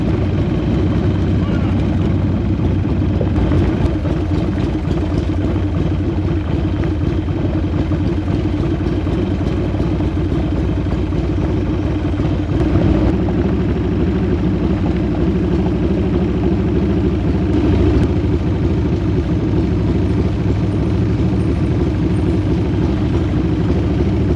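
A rigid Harley-Davidson motorcycle rides a rough, bumpy track in the Peak District, its engine droning steadily and loud the whole way, with occasional jolts and thumps over the uneven ground.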